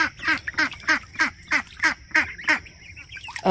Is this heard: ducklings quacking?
yes